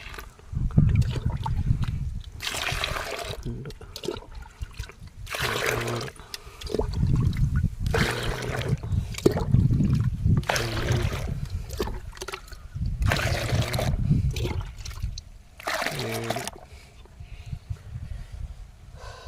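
Water poured into a container while mixing a rice paddy field treatment, a steady splashing gush in repeated long pours with short breaks, near and fairly loud.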